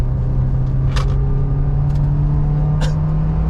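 A Honda S2000 Phase 2 with a manual gearbox holds around 5000 rpm, giving a steady, close engine drone from inside the car while it drives, with no talk.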